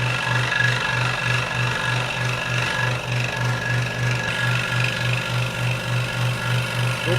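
A scroll saw cuts a piece of wood as it is turned slowly, a loud steady buzzing hum with a fast regular reciprocating pulse, continuous and close.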